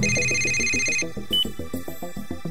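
Telephone ringing in the video game Yakuza 1 HD, a loud, rapid repeating electronic bell trill pulsing steadily, with a brief high beep partway through.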